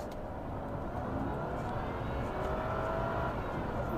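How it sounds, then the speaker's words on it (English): A supercharged 370 bhp Jaguar XKR V8 accelerates hard, its engine note climbing steadily with rising harmonic whine over a constant roar, loud and close with no talk. "It's got that creamy V8."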